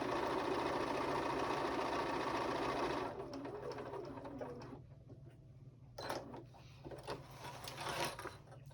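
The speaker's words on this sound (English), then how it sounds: "stitch all the way around. And we're going to back stitch and lock that stitch" A sewing machine runs steadily for about three seconds while stitching around a seam allowance on a fabric Christmas pouch, then drops to quieter, intermittent clicks and handling noises as the stitch is backed and locked.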